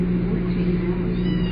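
Cats being moved from one room to another at a cat rescue meow continuously at close range, a steady layered chorus of several kitties over a constant indoor background hum.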